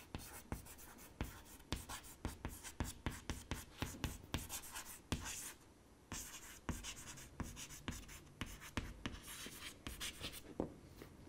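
Marker or chalk writing on a board during a lecture on analogue modeling, a rapid series of sharp scratchy strokes and taps in irregular bursts, close and fairly quiet with a brief pause midway.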